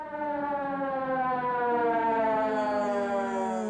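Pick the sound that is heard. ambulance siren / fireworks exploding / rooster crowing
ambulance siren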